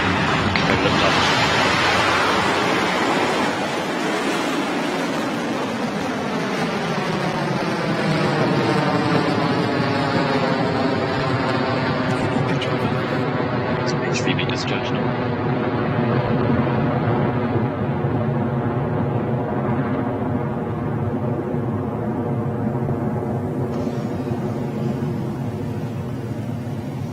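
Sustained broadband rocket roar from the CAPSTONE mission liftoff, loud and continuous throughout, with a rumbling low end and a steady wash of noise that slowly settles.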